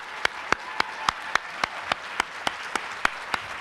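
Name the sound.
audience applause at an Ignite event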